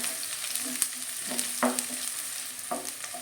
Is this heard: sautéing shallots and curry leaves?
yes